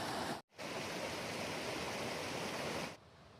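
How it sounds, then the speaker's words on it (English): A mountain stream flows beside a trail, a steady broadband rushing hiss heard close and moderately quiet, broken by a brief dropout near the start and dropping to a softer level for the final half second. "I was running pretty low on water, but I hit a stream first thing,"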